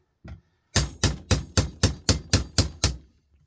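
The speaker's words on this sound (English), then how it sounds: "Chisel at work." Hammer striking a chisel to break up scrap for copper: one light tap, then nine sharp, evenly spaced metallic blows in a steady rhythm, close and loud.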